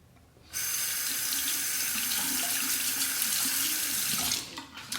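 Running tap water pours steadily into a sink as a straight razor is rinsed clean mid-shave, starting abruptly after a brief quiet moment and easing off near the end, close and alone with no voices.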